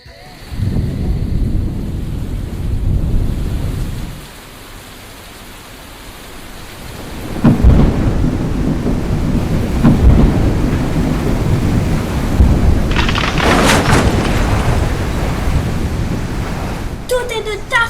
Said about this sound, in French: Et tu arrives et c'est la tempête.